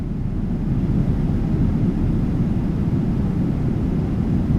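Steady low rumble of a PMDG 777-200ER airliner cabin during descent in a flight simulator with the Boris Audio Works soundpack, a constant broadband engine and airflow drone heard alone at an even level.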